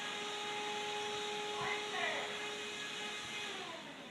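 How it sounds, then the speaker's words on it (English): A household vacuum cleaner runs steadily nearby, a continuous whirring motor drone with a faint tonal whine, level throughout with slight fluctuations. "the vacuum."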